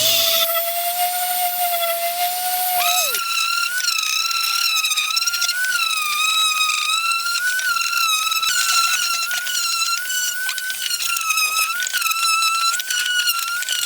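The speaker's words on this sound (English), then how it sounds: "I'll sand around a little bit on the parts that show. We're going to go with something kind of rough, I guess, to start things off, like a 60 grit." A wooden shadow box being sanded with coarse 60-grit sandpaper on a power tool: a loud, steady, high motor whine over gritty scraping, with the pitch jumping higher after a few seconds and then holding.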